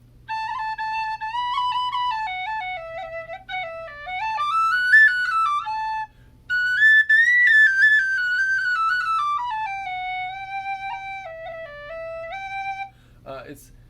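A Goldfinch high D tin whistle plays a clear, pure melody of stepped notes rising and falling, loud and close, with a short pause midway and no talking.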